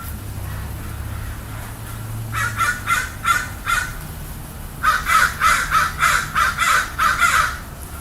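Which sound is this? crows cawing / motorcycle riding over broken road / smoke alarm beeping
crows cawing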